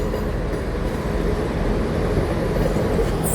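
A Class 170 diesel multiple unit pulling out of a station toward Leeds, a steady, close rumble of engine and wheels that stays even and continuous for a few seconds with no voices.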